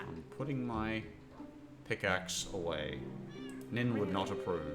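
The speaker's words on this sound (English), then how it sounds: "Yeah, I can hear cats." A cat meows repeatedly in Minecraft, rising and falling calls close by, mixed under and between steady talking voices.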